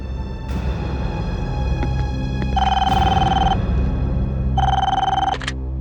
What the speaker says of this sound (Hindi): फोन करो उसे।